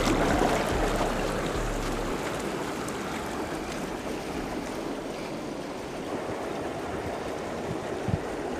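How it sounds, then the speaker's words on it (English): Air bubbles churn in an Intex PureSpa six-person inflatable hot tub, a steady bubbling, rushing wash of water heard close with no break. "let's double check the bubbles"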